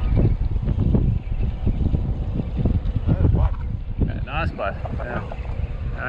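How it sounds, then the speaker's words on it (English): Strong wind buffets the microphone on a fishing pier by a reef, a constant low rumbling roar throughout with a person talking briefly near the end. "I got a wind like crazy there because of"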